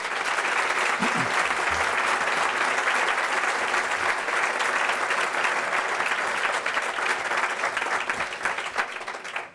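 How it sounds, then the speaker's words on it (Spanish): Steady, dense audience applause at a Spanish economic forum following the president's speech, loud and continuous throughout with a brief low voice early on. "un aplauso para el presidente por su intervención"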